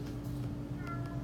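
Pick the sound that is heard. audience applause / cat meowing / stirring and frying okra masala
cat meowing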